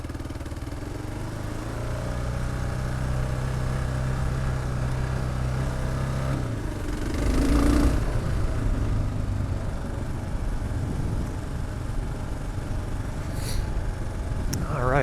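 A Kawasaki KLR650 dual sport motorcycle engine idles with a steady low drone, then revs briefly before settling, heard outdoors on a trail.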